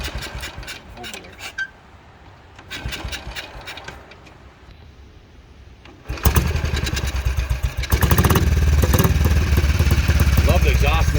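A 1964 Matchless 350 trials motorcycle engine starts and revs, first with sputtering bursts and clicks, then roaring into a loud, steady running exhaust note up close; a voice speaks briefly early on.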